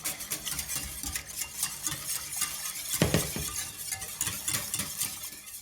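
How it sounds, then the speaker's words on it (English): A whisk stirs broth into a roux for veal blanquette, giving a continuous rhythmic scraping and sloshing with occasional metallic clinks, close and moderately quiet. "you mix the liquid in very well with the roux until it is smooth"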